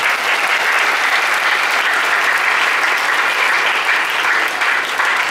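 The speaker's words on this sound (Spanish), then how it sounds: "Levántale el aplauso a Jesucristo." A church congregation applauds during a sermon: dense, loud, continuous clapping from many hands that stays even from start to finish, with no voice over it.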